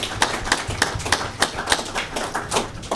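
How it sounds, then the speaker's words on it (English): Award-ceremony audience clapping for finalists and winners at a media day event, a loose scatter of distinct hand claps with irregular rhythm, moderately close and steady, no voices over it. "just another round of applause for our finalists and for our ladies winners"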